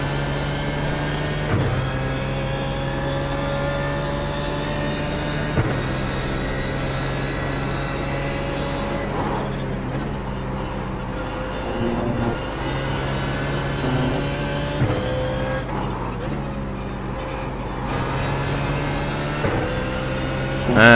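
A BMW Z4 GT3 race car accelerates at Watkins Glen in an iRacing sim, its engine a steady sustained drone with several gear-change dips and swells across the stretch, fairly loud and with no voices.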